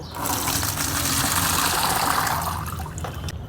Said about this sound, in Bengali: এটা আমি এই জলটা চালনি দিয়ে ছেঁকে নেব